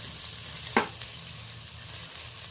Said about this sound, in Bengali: ফোড়নের সাথে আমটা দিয়ে আমটাও বেশ লালচে করে একটু ভেজে নিলাম।